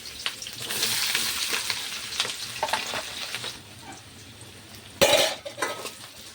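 Onions and potatoes fry in hot oil with a steady sizzle, broken by scrapes and stirring clinks against the pan, then a sharper burst of sizzling near the end.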